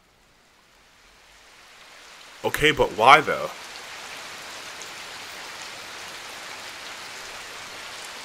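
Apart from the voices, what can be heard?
rain falling in the video game Takume The Dreaming Daughter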